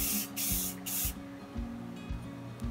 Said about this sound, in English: finish it up with the several coats, light coats, of this Krylon Crystal Clear spray